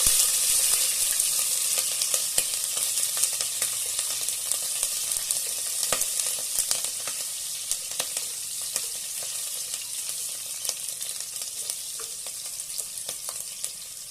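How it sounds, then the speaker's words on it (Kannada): Green chillies and kasuri methi sizzle in a hot oil tempering over a low flame, making a steady, bright crackling hiss with small pops scattered throughout and no voices. "ಸಣ್ಣ ಉರಿ ಇಟ್ಬಿಟ್ಟು ಆಮೇಲೆ ನೋಡಿ ಹಸಿಮೆಣಸಿನ್ಕಾಯಿನ ಸೇರಿಸ್ಕೊಳ್ಳೋಣ ಅದಕ್ಕೆ"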